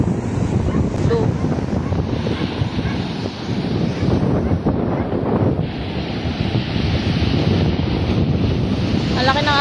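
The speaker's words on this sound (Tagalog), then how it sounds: "Ang laki ng alon guys." Large storm-driven ocean waves crash and roar along a shore while strong wind buffets the microphone, a continuous loud rush, with a voice talking faintly underneath.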